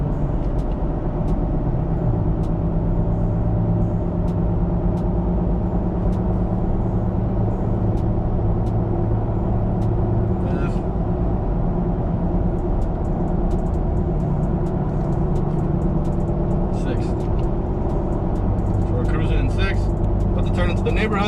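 A 2017 Toyota Tacoma pickup driving in S mode, its engine droning low and steady from inside the cab as it shifts up through the gears, with road noise throughout.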